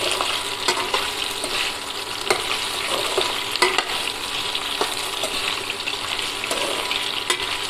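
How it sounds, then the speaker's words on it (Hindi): Potato pieces fry in hot oil with a loud, continuous sizzle. Scraping stir strokes and light clicks punctuate it at irregular intervals. "तो हम थोड़ा सा आलू को तेल में भून लेंगे।"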